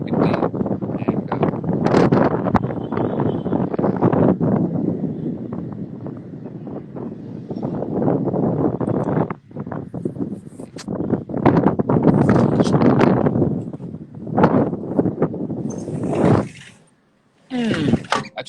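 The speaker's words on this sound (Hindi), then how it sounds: "एक्चुअली बहुत ज्यादा हवा चलती है" Strong outdoor wind on a pleasant evening buffets the microphone in a continuous loud low roar, briefly dropping out near the end before gusting again.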